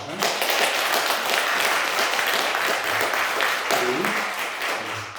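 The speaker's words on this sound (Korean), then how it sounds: "박수하겠습니다." A church congregation applauds steadily after a baptism during Sunday worship, dense clapping filling the whole stretch, with a few voices murmuring underneath.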